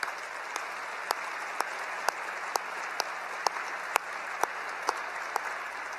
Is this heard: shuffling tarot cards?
no